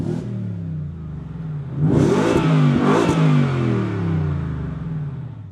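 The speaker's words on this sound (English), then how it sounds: "Whether you're inside or outside, that exhaust mode sounds pretty cool" A 2023 Ford F-150 Raptor R in its loud exhaust mode, revving hard: a deep, close-up engine roar climbs through two sharp throttle blips, then settles into a rumbling idle, with no talk over it.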